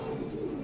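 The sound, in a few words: racing pigeons cooing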